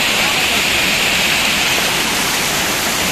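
A waterfall roars loud and steady in summer heat while people bathe beneath it, a dense continuous rush of falling water filling the whole clip with faint voices under it.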